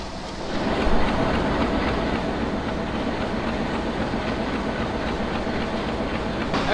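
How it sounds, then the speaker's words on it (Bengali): A passenger commuter train pulls away from Mobarakganj railway station at night, giving a loud, continuous rumble with a steady clickety-clack of wheels on the rails, heard from inside a carriage. "আমাদের ট্রেন মোবারকগঞ্জ রেলওয়ে স্টেশন থেকে ছেড়ে দিয়েছে"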